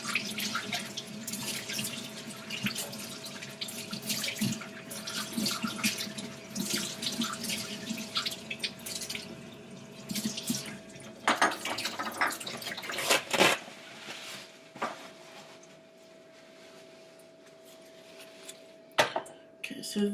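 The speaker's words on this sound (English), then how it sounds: "I'm going to rinse out my measuring cup" A sink tap runs steadily as a measuring cup is rinsed beneath it, water splashing and trickling close by at moderate level, with a few clinks and a brief voice before the flow fades near the end.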